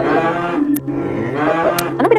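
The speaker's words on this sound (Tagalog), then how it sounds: "Baka ba yun? Kalabaw." A carabao, or water buffalo, on a farm lows in long drawn-out calls repeated several times, loud and close, with a brief gap partway through and other farm noise in the background.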